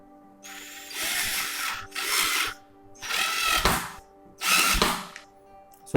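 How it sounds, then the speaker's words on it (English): A Black & Decker 12 V cordless drill/driver whines in four short bursts as it drives a screw into a round piece of wood. The motor is close and loud, with a faint hum between bursts and no talk. "Let's see how it drives the screw in this wood."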